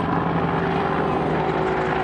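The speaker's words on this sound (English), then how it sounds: "There's a helicopter going by." A helicopter passes by outdoors in the morning, its steady broadband rotor and engine drone holding at an even, fairly loud level for the whole stretch, with no one talking.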